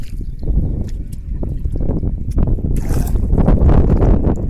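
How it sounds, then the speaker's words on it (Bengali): A rowboat moves on the Madhumati river with a low, rumbling wash of water and wind buffeting the microphone, growing louder toward the end, with a few faint splashes. "আমাদের মাঝি ভাই আছে যে আমাদের নৌকাটা সুন্দরভাবে চালিয়ে নিয়ে যাচ্ছে"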